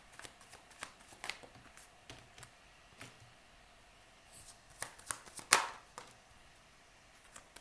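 Tarot cards shuffled by hand in a quiet room, giving soft papery riffles and flicks in scattered bursts, with one sharper snap near the end.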